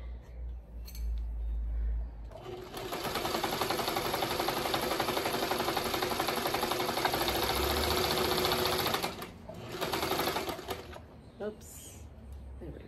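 A sewing machine runs steadily for several seconds while stitching scrap and crumb quilt blocks, a close, even mechanical whir with faint clinks at the start and end.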